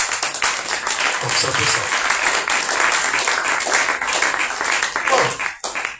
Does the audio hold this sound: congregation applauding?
yes